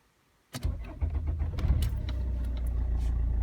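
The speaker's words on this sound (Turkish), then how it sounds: "Şu an ben aracı çalıştırıyorum arkadaşlar." A diesel car engine starts during a fuel pump pressure test: a brief crank after a quiet moment, then it catches and settles into a steady, close, rumbling idle.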